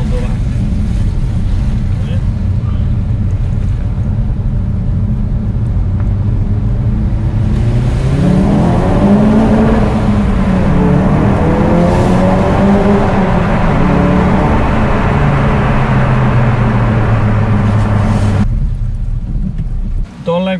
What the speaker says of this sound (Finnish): niin auto käynnistyy taas ja sitten vaan menoksi